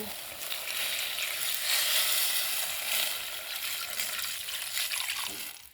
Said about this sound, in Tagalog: Dagdagan natin ng tubig para na malaga yung ating chicken.